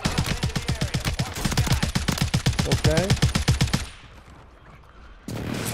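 Rapid bursts of automatic gunfire and crackling thermite explosions in the Call of Duty video game, a loud dense volley of sharp repeated shots for several seconds, then a quieter lull before another burst, with a brief spoken word.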